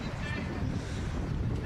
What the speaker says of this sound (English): Can probably hear the wind in the background.